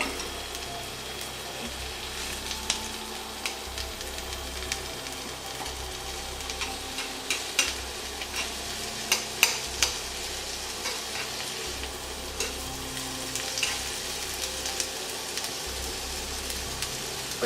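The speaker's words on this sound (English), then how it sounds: "You want to cook the onions until they're golden brown" Onions frying in a very hot pan for a Japanese lamb onion curry, a steady crackling sizzle with occasional sharper pops and scraping stirs, fairly close and alone with no talking.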